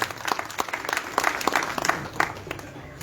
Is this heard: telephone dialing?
no